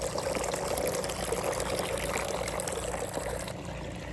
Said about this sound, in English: Hear that water fountain?